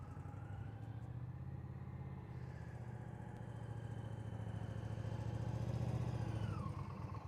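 Motorcycle engine held at a steady, low throttle during a slow riding practice exercise, a continuous close putter that rises slightly in pitch and loudness midway, then eases off, with no voices.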